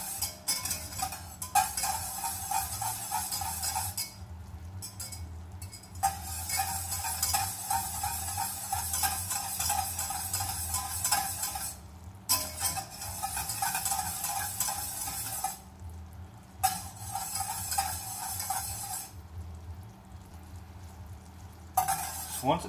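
Caramel sauce for an apple cobbler bubbles hard in a pan as it is stirred, a continuous close sizzling hiss with several brief pauses and faint scrapes of a spoon.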